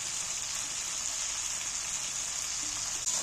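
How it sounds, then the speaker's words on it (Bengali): Spices including Kashmiri red chilli and turmeric frying in a pan with tomato, a dense even rain-like sizzle that holds steady and loud throughout. "এইবার মশলাটাকে ভালো করে কষিয়ে নেব"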